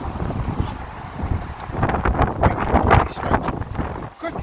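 Strong wind buffets the microphone outdoors in gusty, rumbling surges that swell and fade over a few seconds, with a voice faintly mixed in.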